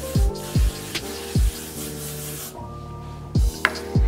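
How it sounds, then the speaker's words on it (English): An aerosol can of hair finishing spray hisses in two long sprays over braided hair, up close, over background music with a thumping beat. "So finally, I'm just gonna take a little bit of finishing spray,"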